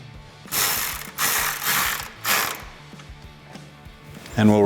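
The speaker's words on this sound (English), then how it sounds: "Grab your 7mm socket once again and get those bolts tightened down." A ratchet with a 7mm socket tightens fog light bolts on a 2019-2021 Silverado 1500, giving four close, loud bursts of rapid clicking, each about half a second long, with a short voice at the end.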